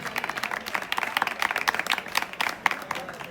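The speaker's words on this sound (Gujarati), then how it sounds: "જોરદાર તાળીઓ તમારા સોસાયટીના પ્રમુખ માટે પાડવાની છે" Crowd at a live devotional Ramamandal gathering applauding their society president, dense overlapping hand claps at moderate distance, fairly soft and sustained.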